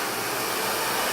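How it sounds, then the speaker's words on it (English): A blow dryer runs continuously at close range, a loud, steady broadband whoosh with no pauses or speech for its short duration. "this blow dryer cuts my drying time at least in half, no joke."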